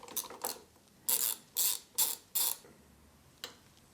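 A ratchet with an 18mm spark plug socket works a spark plug out of a Suzuki Savage motorcycle engine, giving short bursts of clicking in a broken rhythm, close and fairly quiet with no voices.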